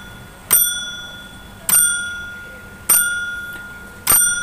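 An automatic school or office bell driven by a flasher rings in short bursts, four bright metallic strikes roughly a second apart, each ringing out and fading before the next, loud and close.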